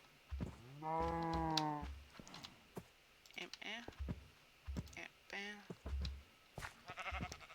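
Minecraft cattle lowing in a few drawn-out moos, mixed with sheep bleats and keyboard clicks, while a person talks intermittently.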